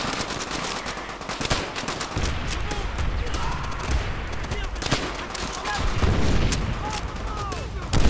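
Relentless gunfire in Call of Duty: World at War, Breaking Point mission on Veteran difficulty: rapid rifle and machine-gun shots layered into a loud, continuous battle din with no pause.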